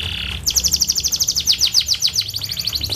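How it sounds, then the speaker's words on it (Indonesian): Canary singing loudly and close, a rapid run of bright repeated trills starting after a short high note, pulsing steadily and continuing to the end. "Burungnya kencang banget kalau ini."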